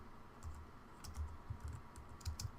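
Someone typing a code comment on a computer keyboard: soft, irregular key taps in small clusters, close and quiet, with no talk.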